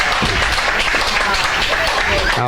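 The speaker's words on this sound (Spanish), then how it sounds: "Dale un aplauso al Señor." A church congregation claps together, loud and dense, filling the space with continuous applause while voices carry on over it.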